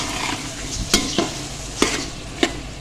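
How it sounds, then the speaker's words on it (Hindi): Boiled chickpeas frying with spices in hot oil for chana biryani: a steady, close sizzle broken by four sharp spoon scrapes against the pan at roughly even intervals. "चनों के साथ मसालों को हमने अच्छे से भून लेना है कि ऑयल जो है ना हमारा ये मसाले से अलग हो जाए"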